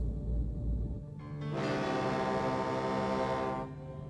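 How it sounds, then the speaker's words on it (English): A deep, steady tugboat horn sounds once, holding for about two seconds over a low rumble before cutting off. "the tugs tooted goodbye to Inverness as he made his way out onto the ocean"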